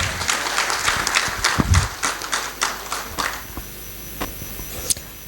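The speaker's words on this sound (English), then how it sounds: "Let us give them a big round of applause." Audience applause at a legal seminar welcoming a senior advocate, scattered claps that thin out over a few seconds into quieter isolated claps.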